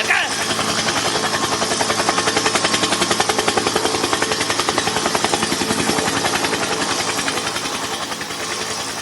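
Loud, steady rhythmic whump of helicopter rotor blades close by, a continuous chopping pulse that fades slightly at the end.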